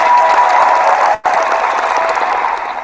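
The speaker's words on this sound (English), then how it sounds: "Let's give him a big old round of applause." A crowd applauding with sustained clapping, loud and close, broken by a brief dropout midway before the clapping resumes and slowly tapers.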